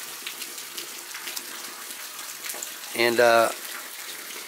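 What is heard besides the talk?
flowing water beside hiking trail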